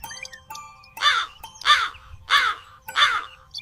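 A crow caws four times in an evenly spaced series of harsh, loud calls, with faint ringing tones in the background.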